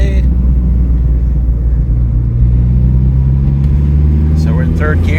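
A 1985 Dodge Omni GLH Turbo driving in third gear, its engine a steady loud low drone and road rumble filling the cabin, with a slight rise in pitch near the end.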